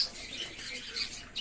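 Fantail and flying pigeons in a loft, faint scattered squawks and rustling chirps over a quiet background, brief and somewhat distant.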